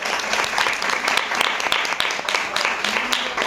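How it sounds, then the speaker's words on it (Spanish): Audience applause for a guest named Patricia at a book presentation event, a moderate crowd clapping with distinct individual claps audible throughout, steady and fairly close. "Le damos un fuerte aplauso a Patricia,"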